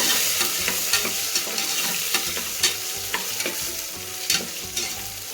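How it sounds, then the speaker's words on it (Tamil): Dried red chillies and curry leaves fry in a pan with a steady close sizzle, punctuated by regular scraping stirs of a spoon. "இதோட வரமிளகாய் கிள்ளி வச்சது போட்டுக்கலாங்க கருவேப்பிலை எல்லாம் கலந்து வச்சுக்கலாம்"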